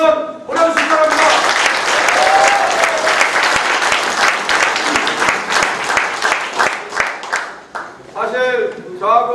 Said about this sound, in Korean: 여러분들 힘찬 박수 한번 보내주시기 바랍니다.